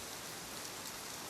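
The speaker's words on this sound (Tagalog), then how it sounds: "Mag-aalas 7 na nga ng umaga ay hindi pa rin tumitila ang ulan dito sa Clark City." Heavy rain pours steadily in Clark City in the early morning, a dense, even hiss of falling water with no pauses.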